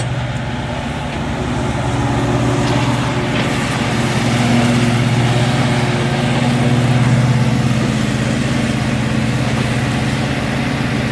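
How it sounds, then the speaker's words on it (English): A small ASV RT120 compact track loader engine drones steadily nearby during retention pond work, a constant mid-loud hum with a slight swell partway through and no voices. "Not a bad little mower."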